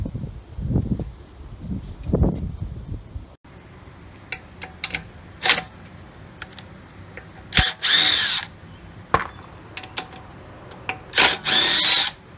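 A power tool removes lug nuts from a 2008 Lincoln MKX wheel, with several short, loud whirring and rattling bursts separated by pauses, close up and without talk.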